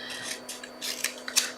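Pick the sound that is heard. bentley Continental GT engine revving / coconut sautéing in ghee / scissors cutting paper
scissors cutting paper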